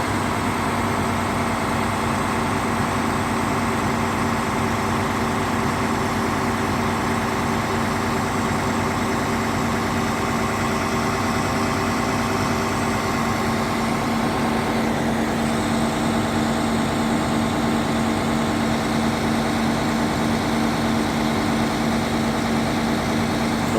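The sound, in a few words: truck engine idling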